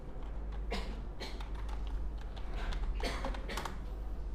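Keys tapped on a computer keyboard in irregular bursts of clicks, close and moderately loud over a steady low hum, with no talking.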